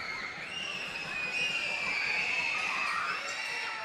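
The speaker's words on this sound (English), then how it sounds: "Crowd getting loud." Basketball crowd at a BigV Championship Men's game, Shepparton vs Wyndham, roars steadily with shouting and cheering that swells midway and stays loud throughout.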